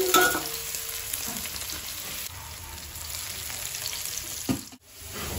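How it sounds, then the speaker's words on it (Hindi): Potatoes frying in hot oil with a little turmeric, a close, steady sizzling hiss with soft stirring scrapes and a short clatter near the end. "देख सकते हैं आलू मेरा फ्राई हो गया"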